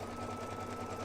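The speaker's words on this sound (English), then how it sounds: "I'm going to stitch the next color stop." Embroidery sewing machine stitching a fabric mug rug design, a steady fast mechanical whirring hum with regular stitching pulses, close and continuous without any voices.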